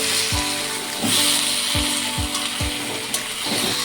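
Taro leaves cooking down with a hilsa fish head in a pan, a continuous hissing sizzle broken by several sharp scraping knocks of a spatula, close and loud, no talking.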